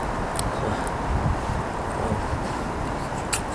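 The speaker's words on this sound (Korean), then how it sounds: "바람이 계속 불고 있습니다." Steady outdoor wind buffeting the microphone as a survival fire is being lit, a continuous broad rushing roar with no voices.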